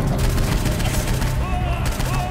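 Rapid gunfire in the video game Saints Row IV, a dense loud stream of shots with booming impacts and electronic game tones, running continuously with faint talk underneath.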